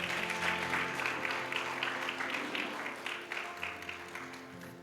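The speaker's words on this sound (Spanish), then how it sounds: "denle un aplauso al Señor" A church congregation applauds together, a dense, fairly distant patter of many hands clapping in a quick, uneven rhythm that carries on steadily for several seconds.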